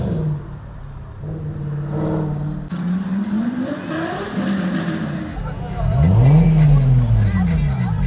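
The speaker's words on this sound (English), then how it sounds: "You'll hear big exhaust engines." Loud car engines rev and roar nearby, rising and falling in pitch, with background chatter and crowd noise underneath.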